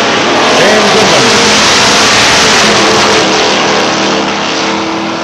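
Drag racing cars, one a Chevy Malibu, roar loudly at a Labour Day drag strip meet in 1992, engines revving hard and continuously at close range through the whole stretch.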